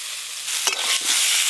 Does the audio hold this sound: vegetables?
yes